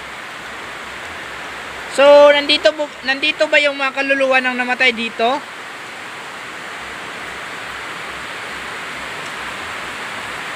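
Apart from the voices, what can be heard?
heavy rain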